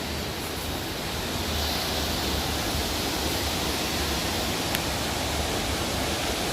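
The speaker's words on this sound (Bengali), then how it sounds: "এই পিছিয়ে ঝর্ণাটা রয়েছে তাই যেন আওয়াজ হচ্ছে" Waterfall just behind a hillside temple in Chhattisgarh, a steady broadband rush of falling water that stays even and continuous throughout, with no voices over it.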